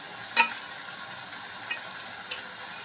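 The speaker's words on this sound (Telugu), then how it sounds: "బాగా కలుపుకోవాలి మీరు హై ఫ్లేమ్లో పెట్టినా ఏం మాడిపోదు" Chili powder and coriander powder are stirred in a pan over high heat, giving two or three short, crisp scraping clicks spread over a soft, steady background hiss.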